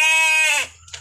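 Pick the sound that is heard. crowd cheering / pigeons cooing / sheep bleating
sheep bleating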